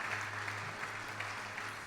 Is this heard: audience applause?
yes